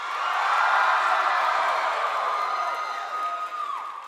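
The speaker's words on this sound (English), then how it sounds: "just keep asking questions and have everyone cheer" A PAX West 2017 convention panel audience cheers and whoops loudly, a dense sustained roar with high yells and scattered clapping that slowly fades toward the end.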